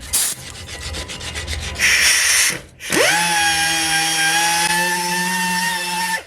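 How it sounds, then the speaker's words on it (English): A dual action sander with 80 grit sandpaper scuffs rust off a metal part ahead of primer, giving a scratchy rubbing rasp that then settles into a loud, steady whirring hum. "bust out the good old DA. We're gonna be using 80 grit sandpaper to scuff this thing up."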